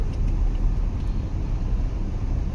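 Steady road traffic on a busy street in Davao City during a holiday festival, a continuous low rumble of car and vehicle engines with no gaps, fairly loud and close throughout.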